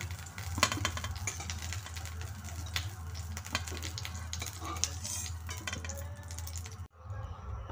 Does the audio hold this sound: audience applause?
no